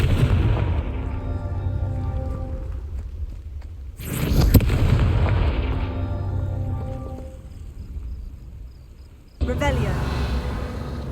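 Confringo fire spell blasts in the Hogwarts Legacy video game: two sudden loud booming bursts, one midway and one near the end, rising over a steady rumbling game ambience.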